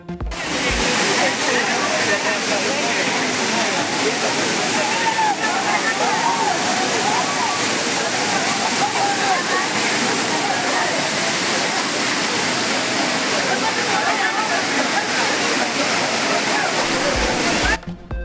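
A waterfall at a crowded tourist spot pours with a loud, continuous, unbroken roar of rushing water that fills the whole scene, with a voice speaking over it.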